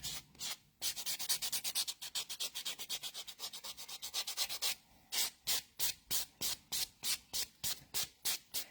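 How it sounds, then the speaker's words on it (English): A buffing block rubs rapidly back and forth over dip powder nails, giving close, steady rhythmic scrubbing strokes that pause briefly, then resume in evenly spaced bursts. "And then in with the buffing block."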